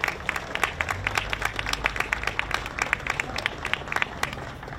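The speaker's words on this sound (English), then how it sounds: "Let's give Assembly Member Gibson a round of applause." Dense, continuous clapping from an audience at a civic morning gathering welcoming a state assembly member, with a crowd murmur underneath and no pauses across the whole stretch.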